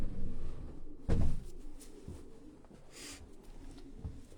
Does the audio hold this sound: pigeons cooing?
yes